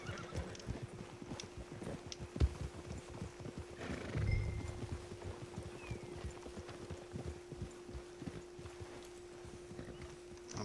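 Horse hooves clip-clop in a steady, busy rhythm against a soft background hum in the video game Red Dead Redemption 2, with a brief whinny midway.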